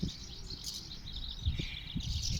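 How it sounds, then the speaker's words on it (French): Birds singing in the morning light beside riverside quays with mooring rings, continuous high chirping and warbling from several birds against a low outdoor rumble. "La nature se réveille, les oiseaux, ça grouille de partout."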